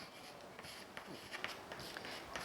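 Chalk or marker writing on a classroom board during a chemistry lesson, a few short faint scratchy strokes over quiet room noise, with no talking.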